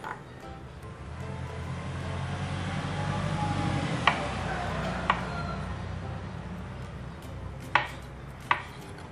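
A knife slices through mushrooms on a cutting board, giving four sharp, spaced taps over a steady background hum, fairly faint and close, with no talking.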